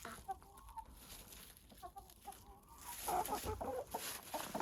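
Chickens cluck in a freshly cleaned coop on a snowy day, a few scattered calls near and moderately loud, growing busier toward the end.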